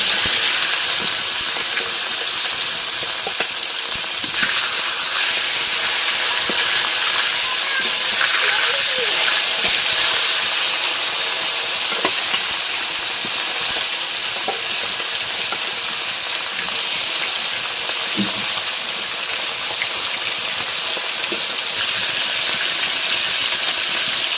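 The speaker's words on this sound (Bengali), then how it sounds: "মাছ ভাজা হয়ে গিয়েছে, এবার তুলে দিচ্ছি।" Fish frying in hot oil in a home kitchen, alongside eggplant and potato, making a continuous broadband hissing sizzle that stays loud and steady with occasional small spatters and clinks.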